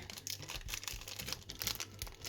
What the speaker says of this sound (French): je vais le déballer avec vous cette fois-ci